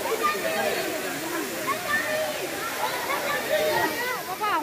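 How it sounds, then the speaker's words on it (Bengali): The largest waterfall in Bangladesh roars as a steady, broad wash of falling water, with a voice speaking over it throughout. "একটু ঝর্ণার শব্দটা শুনুন।"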